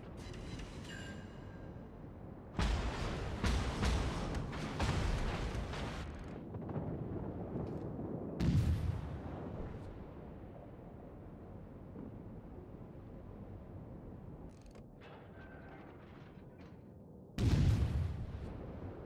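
Naval artillery and gunfire in World of Warships: loud booming salvos erupt at intervals, including a long burst of rapid blasts early on, over a constant rumbling background of engines and sea.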